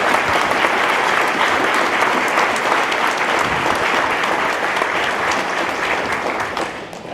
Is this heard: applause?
yes